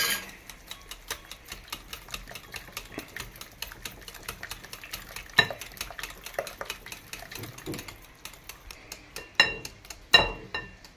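Blueberry yogurt cake batter being mixed by hand, with a steady run of light rhythmic scraping and tapping strokes and a few sharper clinks of the utensil against the bowl, close and fairly quiet.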